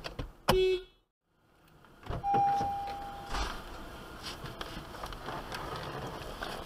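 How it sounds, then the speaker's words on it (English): A car horn gives a short honk, then a longer steady one, with a car interior and rustling around it, during a DMV behind-the-wheel driving test. "put it back down and honk your horn"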